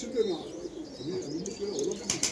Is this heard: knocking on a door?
no